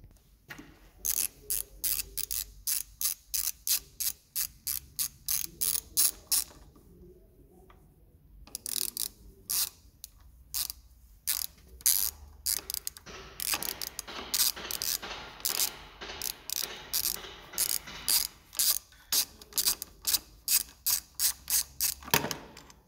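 A ratchet with a 10 mm socket loosens a screw on a Yamaha MT07 motorcycle, giving rapid bursts of sharp clicking strokes with short pauses between, close and clear.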